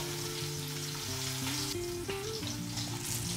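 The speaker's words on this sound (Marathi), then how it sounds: "आता आपण हे हलवून घेऊया जरा, लसूण लाल कलरमध्ये येऊपर्यंत आपण हा आता हलवत राहूया।" Chopped garlic sizzles loudly in hot oil in a pan while being stirred, a steady close frying crackle with scraping strokes from the spoon throughout.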